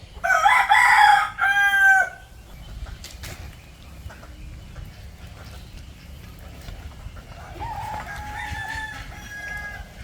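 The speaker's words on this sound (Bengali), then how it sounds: "মুরগি" Near and loud, a rooster crows twice in quick succession on a green farmstead at Char Fasson in Bhola. A softer, longer crow or cluck follows near the end against low outdoor background noise.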